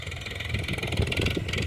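A tractor engine runs steadily and close by during a ride, with a continuous rumbling drone and a constant mid-pitched mechanical whine over it.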